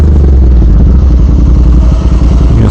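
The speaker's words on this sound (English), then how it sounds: "It does sound at idle a little bit like a Harley." A vehicle fitted with a new aftermarket exhaust idles with a deep, steady, lumpy rumble close by, its loping Harley-like pulse continuous throughout with no voices.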